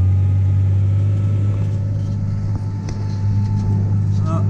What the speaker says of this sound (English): get it revved up again, and start the PTO